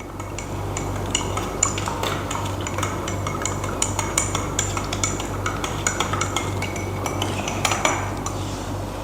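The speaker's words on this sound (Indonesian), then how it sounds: "Aduk hingga tercampur rata." A spoon stirs sweetened condensed milk into warm water in a glass, with continuous rapid clinking and scraping of metal against glass, close and fairly loud, no voices.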